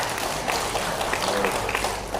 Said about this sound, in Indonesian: Tepuk tangan Sumba Tengah.